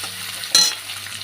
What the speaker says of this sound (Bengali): এবার আমি একটা একটা করে এঁচড় ছেড়ে দেবো, একটু ভেজে নেব